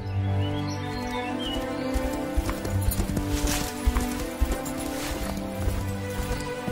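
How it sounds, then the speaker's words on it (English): Horse hooves clip-clop steadily in a dramatised medieval scene, with birds chirping, a low musical drone beneath and a busy background. "is that a new horse?"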